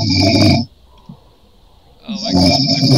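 A sleeping friend snores during a Star Wars Republic Commando gaming session, two loud, rough, drawn-out breaths close to the mic, separated by a quieter pause.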